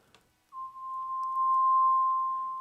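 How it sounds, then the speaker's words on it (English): A pure, steady sine-wave synth tone rises in and holds for about two seconds in a modular ambient patch with kalimba sounds, a clean sustained bass note alone in near silence. "There's the sine wave version of the bass line that's playing"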